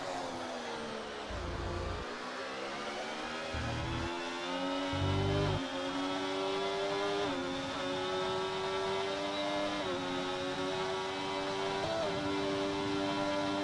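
F1 race car engines in the video game F1 24, a high-pitched whine climbing through upshifts with brief dips and a few low bursts near the start, steady and loud throughout.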